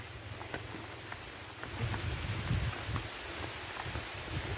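Heavy rain falls outdoors on a farm, a steady dense hiss of drops with low rumbling underneath, growing louder partway through and staying constant with no talking.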